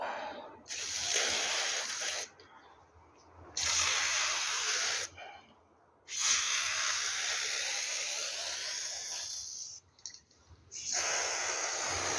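Dry lube sprays onto a speedometer cable for a Smiths speedo in several close, steady hissing bursts of one to three seconds each, with short silent gaps between them and no talking.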